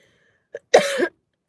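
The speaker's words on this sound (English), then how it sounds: "I have such a bad cough." One person coughs: a tiny catch, then a single harsh, rasping cough, close and loud against silence.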